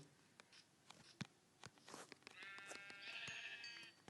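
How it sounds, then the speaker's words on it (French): A sheep bleats in Minecraft Pocket Edition, a faint, harmonic bleat rising near the end, preceded by scattered soft clicks and taps of blocky footsteps and game actions. "Oh voilà un petit mouton."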